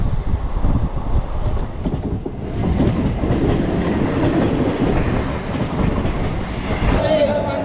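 An express train rumbles steadily along the rails, heavy low clatter and wind rushing past, heard from on board a general coach at speed.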